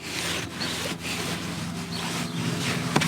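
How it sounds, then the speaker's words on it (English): Cloth rubbing Autoglym polish reviver onto a Peugeot car radio stalk, a continuous close scrubbing, rasping friction with brief pauses between strokes, no voices. "this one polishes it up for that nice sort of wet look"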